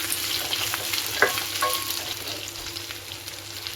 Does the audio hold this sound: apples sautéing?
yes